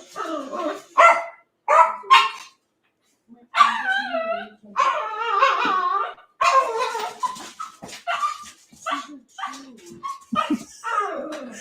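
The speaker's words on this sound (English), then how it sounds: "The dog is losing his mind because he lost his ball." A dog barks and yips excitedly in rapid bursts nearby, trying to get its ball from under a cupboard, with whining in between, mixed with a person talking.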